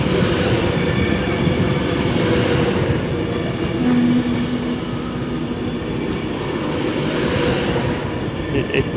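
Class 390 electric train 390-001 running into Crewe station on a Liverpool Lime Street service, a loud continuous rumble and rolling wheel noise with a brief tonal whine, close by and steady throughout.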